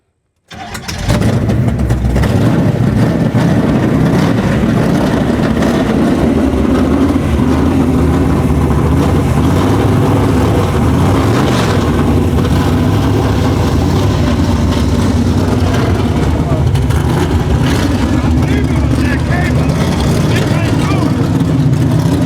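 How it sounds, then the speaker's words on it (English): The LS7 engine of a 1969 Camaro Z/28 is cranked to start, giving a loud, continuous mechanical churn close up for about twenty seconds after a brief silent moment. "Do you think we can maybe hear what a LS7 would sound like on the channel here?"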